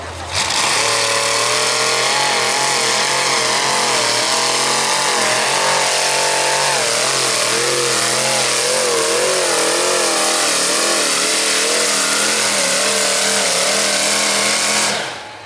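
A purpose-built pulling tractor roars at a tractor pull event, its engine held loud and strained for the whole stretch with wavering revs, dense and close throughout before cutting off at the end.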